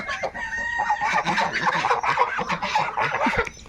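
Raspy, repeated quacking calls from a drake close by, continuous and fairly loud with a hoarse, nasal tone.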